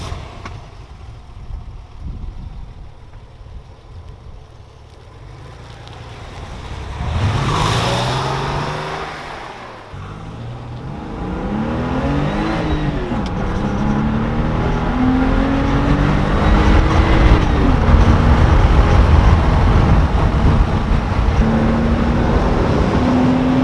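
A 1997 Porsche Carrera S pulls away and accelerates, its engine rising through the revs in several sweeping pulls with a gear change between them, growing louder and rougher toward the end as road noise builds.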